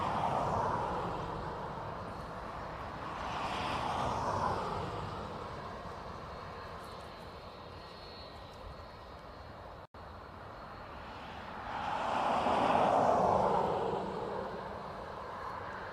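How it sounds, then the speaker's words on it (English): A JetBlue airliner pushes back at Dublin Airport, giving a faint, distant engine hum that rises in two broad swells, with no talk. "The blue JetBlue is pushing back over here."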